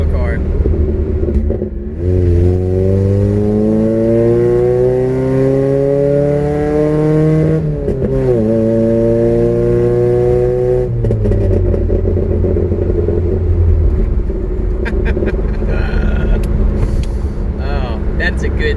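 A loud old four-cylinder engine in a budget Toyota Corolla revs up and holds, pitch climbing in long sweeps, drops briefly, then revs again before settling to a rough idle.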